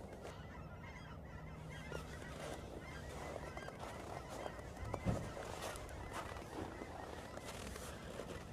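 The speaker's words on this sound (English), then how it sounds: "Oh, that's a lot of birds." A large flock of geese honking at a distance, heard from a light aircraft on a 150-nautical-mile training flight; steady, low-level calls persist throughout over a continuous background rumble.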